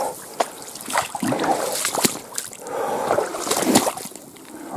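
Water sloshing and splashing in uneven bursts as someone wades across a stream in foul weather, with steps churning the current close by and a steady wet background wash.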